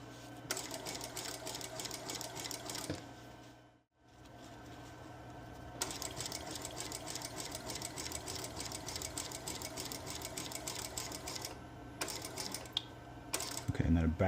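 Sewing machine stitching a seam on a modern sukajan jacket, starting with a back tack: a continuous fast mechanical whir running almost without a break, with one brief pause early on, close and moderate in level.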